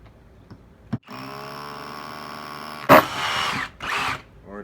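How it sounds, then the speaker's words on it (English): A Kobalt 24V cordless rotary hammer spins up after a faint knock and drones steadily, then breaks into louder rough bursts as it punches through, ending in a final short surge. "Let's see the rotary hammer."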